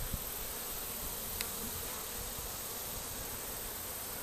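A honey bee swarm buzzes in a dense, continuous hum close by, steady and unbroken, with a faint tap near the start and no talk.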